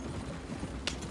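Horses' hooves clip-clopping in the video game Red Dead Redemption 2, a brief steady clatter of hoofbeats under a dense background wash.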